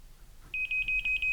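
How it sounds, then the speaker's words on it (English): A laser level receiver gives a fast series of short, high electronic beeps in quick rhythm, close and clear over a quiet background. "that fast beep like that I think you can hear is telling me that I have to go down"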